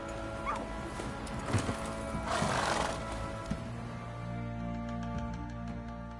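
Roach, a horse in The Witcher 3 video game, gives a loud whinny in the middle, along with some hoof clatter and game background sound.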